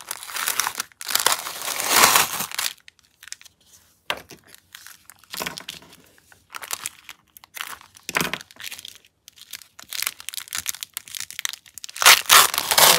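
Linen tape being torn off a roll gives repeated crisp ripping and crinkling bursts, close and fairly loud, separated by short quiet gaps.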